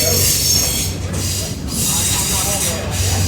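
The Wilmington & Western Doodlebug rail car rolls along the track with a loud steady rumble, hissing and squealing wheels, heard close from on board while a voice talks over it.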